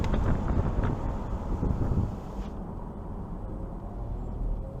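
Wind rushes steadily past a 2023 Chevrolet Camaro LT1 RS convertible driving with the top down, a loud, continuous roar that eases slightly after the first couple of seconds.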